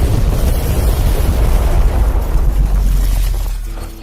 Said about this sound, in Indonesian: tiba-tiba sebuah bom meledak dari kamar tersebut yang membuat seisi rumah sakit porak-poranda